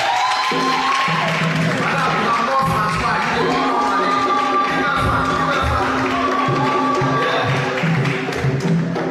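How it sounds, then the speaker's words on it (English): Crowd at a promotional raffle draw event clapping and cheering for an acknowledged guest, steady dense applause with scattered whoops and voices mixed in throughout. "Your applause and the cheers is love."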